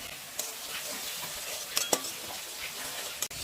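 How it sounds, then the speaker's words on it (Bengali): Turmeric being stirred into a duck curry in a pan, a soft continuous sizzle under faint scraping of the spoon, with a few brief clinks against the pan, fairly quiet and close. "এবার হলুদটাকে ভালো করে মিক্স করে নেব"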